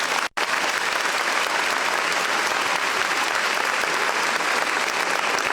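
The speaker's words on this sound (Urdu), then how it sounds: "خیبر پختونخوا کے تالی بجنی چاہیے." An audience of newly admitted students claps at a university orientation ceremony, sustained, dense applause that fills the room, with a momentary break near the start before continuing steadily.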